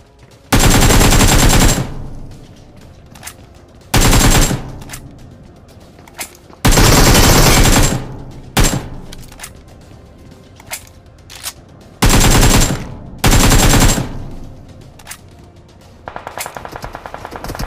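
Rapid bursts of automatic gunfire in a PUBG-style battle royale game, several loud sustained volleys separated by pauses, with fainter single shots and clicks in between.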